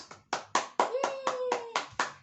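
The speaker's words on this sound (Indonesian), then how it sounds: "Tepuk tangan dulu buat Tuhan Yesus" Hands clapping for Jesus at a children's Sunday school service in church: about nine sharp, close claps in a steady rhythm, with a sustained tone ringing faintly underneath.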